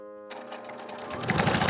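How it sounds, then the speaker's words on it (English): A sewing machine stitches fabric for a costume mask, starting after a brief electronic tone and running as a steady, close whirring buzz that grows slightly louder toward the end, with no voices. "Here's a bit of sewing ASMR right now."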